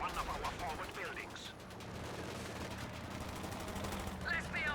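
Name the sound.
machine gun bunker firing in video game Company of Heroes 2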